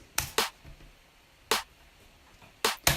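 Five sharp drum hits in an irregular pattern: two quick strikes, one alone, then two more near the end. The hits are punchy and slightly saturated by 3 dB of soft-clipping drive, with quiet gaps between them.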